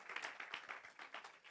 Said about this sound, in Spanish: Fuerte, fuerte ese aplauso para Jesús.